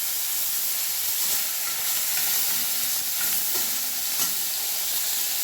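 Tomatoes dropped into hot oil with fried whole spices including cardamom for a snakehead fish curry, giving a steady close sizzle with faint stirring scrapes throughout.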